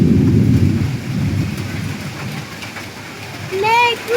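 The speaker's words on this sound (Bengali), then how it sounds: "ও মেঘ ডাকছে" Thunder rolls during a rainstorm, a loud, deep rumble that starts strong, fades into a long low grumble over the patter of rain, then swells again briefly, with a high voice-like sound near the end.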